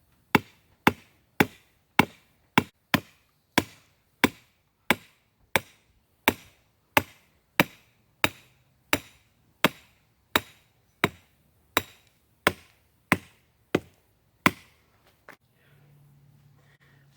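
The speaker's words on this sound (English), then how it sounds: "Again, let the hammer do the work." Steady, evenly spaced sledgehammer blows ring out as an electric fence post is driven into the ground, about twenty-three sharp metallic strikes in a row before the pounding stops and a faint low murmur follows.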